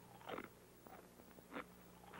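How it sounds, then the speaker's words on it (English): Crunching of Doritos tortilla chips being bitten, several crisp bursts spaced a second or so apart, close and fairly quiet with no voices. "One good crunch leads to another."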